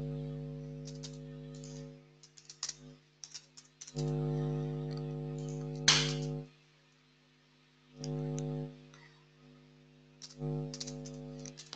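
Keyboard typing entering a surname into a web form, quick irregular bursts of key clicks in several short runs, fairly close, with no talk.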